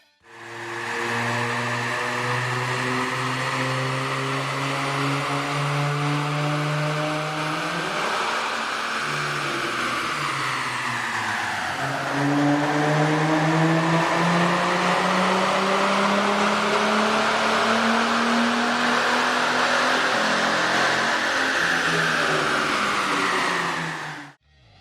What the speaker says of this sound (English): Here's a comparison of the vehicle's sound on the dyno with the stock OEM system versus AEM's